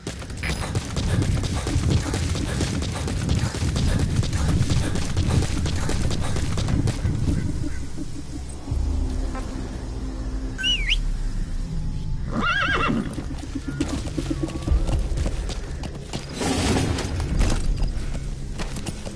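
A horse whinnies amid a dense, noisy game soundscape, with trotting hooves and rumbling effects layered over a continuous background mix.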